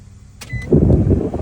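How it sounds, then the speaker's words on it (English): A newly installed blower motor in a Nissan Xterra's A/C system whirs up after a short click, settling into a steady, close airflow hum with no talk. "Oh, there's air coming out. Now the blow motor working."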